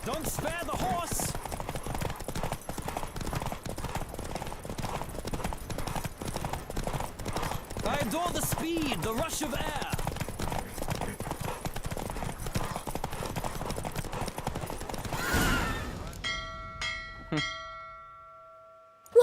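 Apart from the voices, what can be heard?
galloping horse hooves in a race, The Witcher 3 video game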